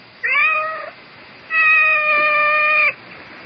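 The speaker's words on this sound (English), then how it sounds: "I seem to have this cat." A cat in a radio drama meows twice, a short rising meow followed by a longer drawn-out one, close and clear against quiet room tone.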